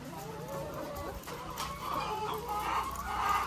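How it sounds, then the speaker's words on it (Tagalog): Egg-laying layer hens newly returned to a layer building cluck in a busy, overlapping chorus, close and steady with the calls rising toward the end. "Itong mga manok po mga kaitlog, ito po yung pinakabago."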